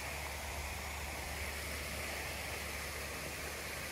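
Fresh spring water in a canyon along a Texas nature trail flows in a constant, even hiss, steady throughout without talk.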